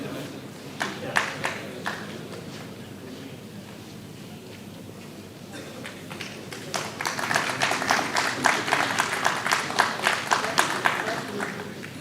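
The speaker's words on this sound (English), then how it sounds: "Give a huge round of applause as we welcome our next guest" An audience claps to welcome a guest onto the stage at a conference panel, with sparse early claps that swell into fuller, sustained applause in a hall.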